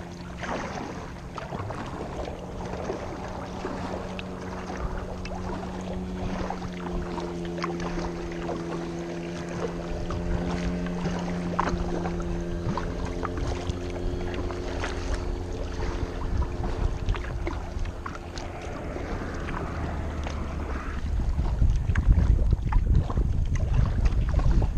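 Wind rushes past while a kayak is paddled on the Mississippi headwaters, a steady blustery roar with low hull rumble and water sounds, growing stronger toward the end, with no talking.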